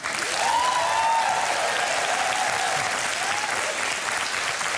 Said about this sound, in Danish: En stor applaus!